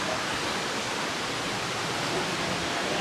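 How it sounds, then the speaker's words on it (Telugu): Steady broadband roar of a waterfall in Telangana, continuous and fairly loud throughout with no voices. "చిత్రకోట కన్నా ఈ తెలంగాణ వాటర్ ఫాల్స్ బాగుంది."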